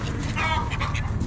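A pair of blue fawn call ducks at a poultry auction, quacking in quick nasal bursts close by over a steady low background hum.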